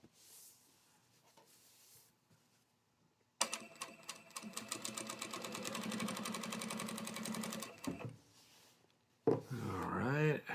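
Sewing machine stitching fabric in a straight line, a steady rapid mechanical whir running continuously for about four seconds, preceded by quiet handling and followed by a brief burst of close speech.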